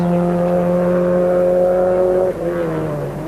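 A 1988 rally car launches from the start line at a forest rallysprint, a loud, close engine drone that bogs down in a too-high low gear, with a brief dip as the car pulls away.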